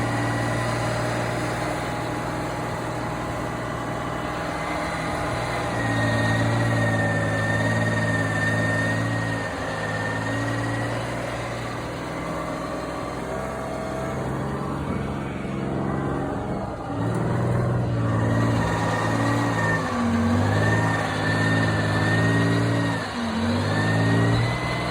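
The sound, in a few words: FV432 armoured vehicle engine running in footage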